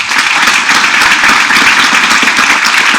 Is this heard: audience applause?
yes